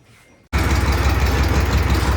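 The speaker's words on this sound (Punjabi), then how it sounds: "ਆਹ ਟਰੈਕਟਰ ਇੱਕ ਸਟਾਰਟ ਕਰਿਆ ਸੀ" A 55-year-old DT 14 tractor engine starts abruptly and settles into a steady, loud, low idle with a rhythmic chugging, close by and alone.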